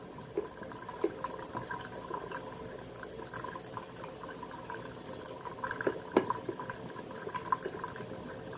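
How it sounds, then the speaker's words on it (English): Washed, finely shredded smoked herring is pressed in a strainer, and faint watery trickling and dripping sounds come through with small wet clicks, quiet and close, scattered across the whole stretch. "I use a strainer to squeeze the water off from the"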